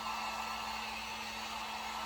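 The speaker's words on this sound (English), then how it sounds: "I love this heat gun" Heat gun blowing hot air, a steady, quiet broadband whoosh with a constant hum, alone and unchanging throughout.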